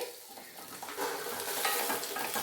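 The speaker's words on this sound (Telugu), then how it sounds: "ఇప్పుడు మనము పొటాటో వేసేసుకుందాం." Capsicum and potato pieces frying in a pan, with a soft hiss growing into a steady, close sizzle as the ingredients are stirred, accompanied by light scraping; no voices.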